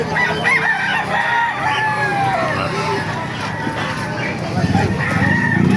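Roosters crow repeatedly among clucking chickens at a market in Calumpit, Philippines, with a busy background murmur of people and activity throughout.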